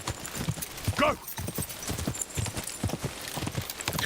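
A horse gallops in the video game Kingdom Come: Deliverance 2, hoofbeats in a quick steady clip-clop rhythm, loud and near, with a brief neigh and faint voice underneath.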